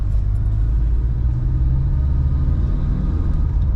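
A car engine hums steadily with a low rumble while driving, a constant drone with road noise and no talking.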